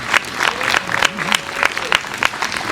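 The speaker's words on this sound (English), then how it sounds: "I think that deserves a round of applause." An audience at a Declaration of Independence recitation event in North Andover applauds steadily, dense clapping from a crowd throughout the short stretch.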